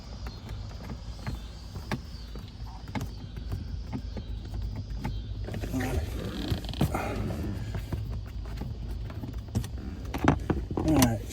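Screws being backed out from beneath the lower dash of a Ram 1500 pickup, with small metallic clicks, taps and rattles of tools and parts scattered through a quiet interior, a few louder handling noises near the end.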